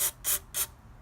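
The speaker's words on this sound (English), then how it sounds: "give it a little shot of carb cleaner" Carb cleaner sprayed into a VW Sunbug engine in three quick, close hissing bursts, each a fraction of a second, with the third ending in a faint trailing hiss.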